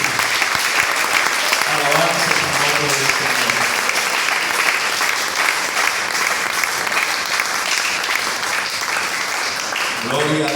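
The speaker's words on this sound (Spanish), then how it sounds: "Denle un aplauso a Jesús." Church congregation applauding during a Spanish-language worship service: sustained, dense clapping fills the whole stretch, with a voice speaking over it near the start and returning at the end.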